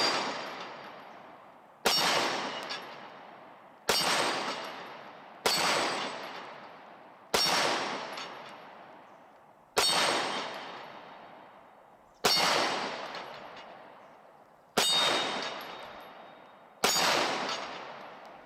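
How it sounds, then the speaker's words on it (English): Nine sharp shots from a Glock 26 Gen 5 pistol ring off an X-Steel dueling tree outdoors, each crack followed by a bright metallic clang that rings and decays, spaced about two seconds apart. "Shooting that X-Steel dueling tree."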